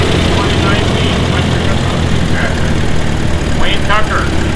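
An antique tractor engine idles at a steam thresher reunion in Rollag, Minnesota, a loud, steady low drone running throughout while a voice talks over it.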